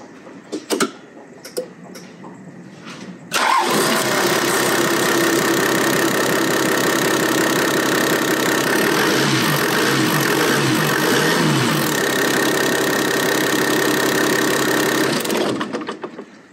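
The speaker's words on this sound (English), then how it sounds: "just start it and just check it now, having started the engine" A Toyota Land Cruiser 80 with the 1HDT turbo-diesel cranks and fires after a few clunks, then settles into a loud, close, steady rattling idle that runs until a quick shutoff near the end.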